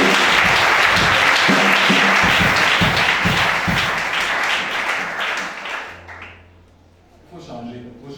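A church congregation applauds steadily and loudly for about six seconds, a dense wash of clapping hands, then the applause fades away and a voice begins to speak.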